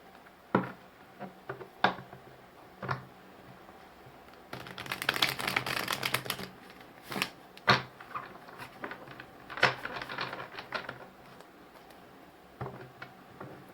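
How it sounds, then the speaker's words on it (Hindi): Tarot cards being drawn and laid down close up, scattered sharp taps and soft slaps with a brief cluster of rapid shuffling in the middle, no talk. "मैं आपके पार्टनर की तरफ से भी 8 कार्ड्स ही निकालूंगी और इनके ऊपर ही रखूंगी"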